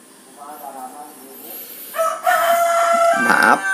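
A rooster crows loudly at a house where many chickens are kept, its long rising call filling the second half after a fainter earlier cluck-like sound.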